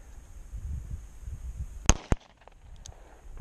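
A plastic pistol fires outdoors: two sharp, loud cracks in quick succession, the first slightly stronger, standing out against quiet rustling ambience with no talking.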